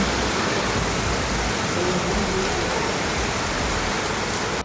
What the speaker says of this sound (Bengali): কি জোরে বৃষ্টি হচ্ছে গাইস